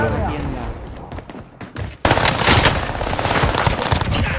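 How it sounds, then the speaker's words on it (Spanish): Gunfire in an online shooter game: bursts of automatic fire that build into loud, dense, continuous shooting in the second half, with a player's voice audible beneath. "Me están disparando."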